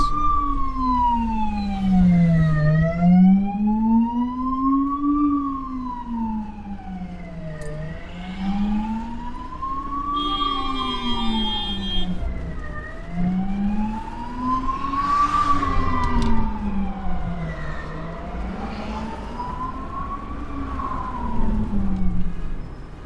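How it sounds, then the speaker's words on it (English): A loud ambulance siren wails slowly up and down in long, regular sweeps, staying close and prominent over traffic rumble throughout. "here comes an ambulance, which I'm just going to make way for"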